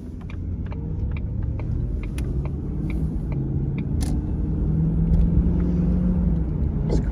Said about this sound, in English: now we'll take the car on a quick cruise.